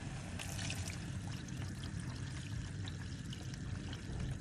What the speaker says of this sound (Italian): aggiungo l'acqua